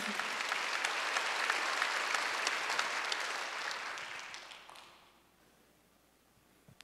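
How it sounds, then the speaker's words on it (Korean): Church congregation applauding during a Korean Wednesday worship service, a dense wash of many hands clapping for about four seconds before fading away into near quiet. "박수 하세요."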